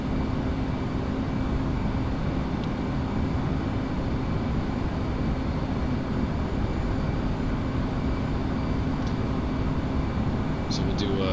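F/A-18C Hornet jet in the DCS flight sim, a steady, dense engine roar holding level throughout a tight turn at about 350 knots, with a few faint clicks near the end.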